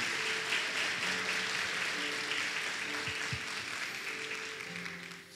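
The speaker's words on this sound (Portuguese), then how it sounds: "Você pode aplaudir o Senhor para não cochilar?" A church congregation claps and applauds together during a sermon, a dense steady wash of many hands filling the room, with faint low tones underneath.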